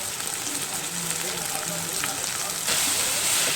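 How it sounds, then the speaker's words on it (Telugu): Thinly sliced cabbage and onions fry in a pan with turmeric, a steady close hiss and crackle that swells louder toward the end, with a voice briefly heard underneath. "ఇప్పుడు మనం క్యాబేజ్ వేసేసుకుందాం"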